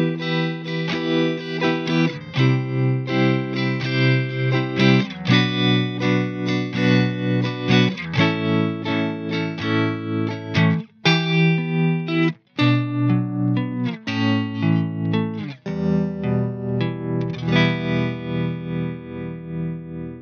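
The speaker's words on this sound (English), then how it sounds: "We have that on a lot of amps also, the tremolo effect" An electric guitar played through an amp's tremolo effect sounds chords whose volume pulses in a steady rhythmic wobble, with distorted tone and a few brief gaps between strums; no voices.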